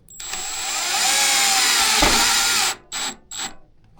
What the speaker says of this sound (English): There's another self-drilling with the installation driver.